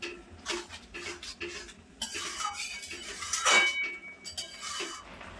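Carrot halwa with cashews and raisins is stirred in a pan, soft scraping and clinks of a spoon against the metal coming in short bursts, quiet and close.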